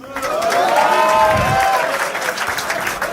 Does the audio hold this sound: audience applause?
yes